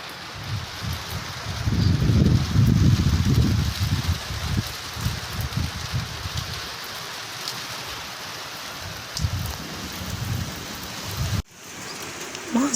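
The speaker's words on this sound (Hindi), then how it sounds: "बारिश हो रही है।" Steady rain falls outdoors, a broad hissing patter on surfaces. It is heavier early on with some low rumbling, then settles into an even shower until an abrupt cut near the end.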